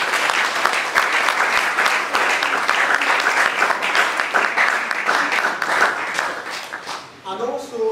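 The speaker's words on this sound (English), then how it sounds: "And let's clap for him" A graduation ceremony audience for tech fellows breaks into dense, sustained clapping for nearly eight seconds, then fades as a voice begins speaking at the end.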